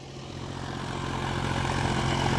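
John Deere 5050D 4WD tractor working a potato field, its engine droning steadily and loudly throughout, rising slightly in level toward the end, with no voices.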